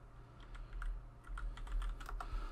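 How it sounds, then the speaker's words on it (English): Clicky computer-keyboard keystrokes come in quick uneven runs during text entry in DC Universe Online, close-miked but soft, with a faint constant background hum. "it would help if I was actually typing correctly"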